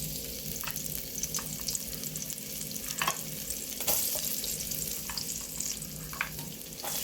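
Fried rice sizzles and crackles steadily in hot cooking oil, a continuous moderate frying hiss with occasional stirring clicks, no voices.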